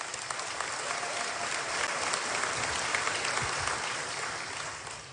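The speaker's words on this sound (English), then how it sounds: "Yes, that deserves an applause." A graduation audience applauds in a large hall, a steady, full wash of clapping from many hands that swells slightly midway and holds at moderate loudness without speech over it.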